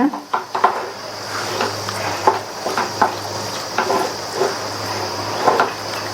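Rice flour dough being stirred in a pan over medium heat for kara kozhukattai, with a regular series of knocks and scrapes from a utensil against the pan over a low hum, close and fairly loud.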